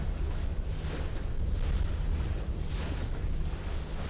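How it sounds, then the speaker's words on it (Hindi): Steady ocean surf and wind rush around a boat near Key Largo, swelling and easing in slow, rolling surges, loud and continuous with heavy wind buffeting and no speech. "लहरों की वजह से कश्ती ने एक से दूसरी सिम्त झूलना शुरू कर दिया है।"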